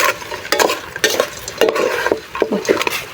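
Grasshoppers being stir-fried in a pan: repeated scraping strokes of a utensil against the pan with sizzling underneath, close and rhythmic, no voices.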